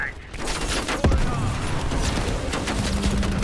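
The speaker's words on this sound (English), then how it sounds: "That's a grenade launcher, I guess." A grenade launcher fires in Call of Duty: Black Ops Cold War, a single heavy thump followed by dense, ongoing battle noise and rattling fire, loud and close throughout.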